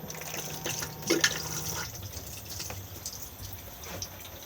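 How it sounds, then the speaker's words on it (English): A Thetford cassette toilet in a Sterling Eccles Sport 442 caravan flushes with a short rush of water into the bowl, loudest in the first two seconds, then fading to a low trickle and drip. "Push the blue button on the top to flush."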